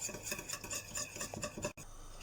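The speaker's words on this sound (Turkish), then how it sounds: "Bunları aynen krep hamuru gibi çırpıyorum bir güzel" Crepe batter with baking powder for sausage-filled crepes is whisked in quick, rhythmic scraping strokes close by, a steady rasping beat that breaks off briefly near the end, with no talking.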